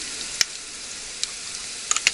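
Homemade canned stewed meat sizzles softly in a pan, a low continuous frying crackle broken by a few sharp metallic taps and scrapes.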